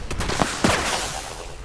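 Explosive shotgun blasts fire in the video game Fallout 76, a few quick sharp booming shots in rapid succession, close and loud, with a brief rumbling tail.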